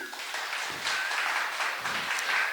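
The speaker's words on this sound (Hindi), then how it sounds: "आप सभी की यहाँ मैं जोरदार तालियों के साथ स्वागत करती हूँ" Audience applause welcoming workers at an International Labour Day event of the Fancy Bazar Mazdoor Union in Guwahati, a steady, dense wash of clapping sustained throughout at moderate level.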